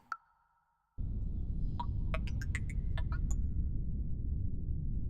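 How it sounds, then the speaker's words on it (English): An ambient music piece with a spaceship-machinery feel: a brief tone, a second of silence, then a steady low mechanical drone with scattered bright pinging, sonar-like blips layered over it. "that's like fucking there's like weird spaceship machinery and stuff around you"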